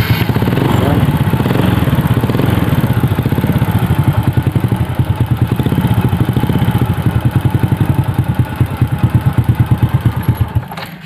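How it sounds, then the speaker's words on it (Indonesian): Honda Grand or Supra motorcycle engine started with the electric starter, a loud close rhythmic engine chugging that runs continuously and settles into a steady idle-like pulse. "Ini kita kontak, kemudian kita nyalakan starternya."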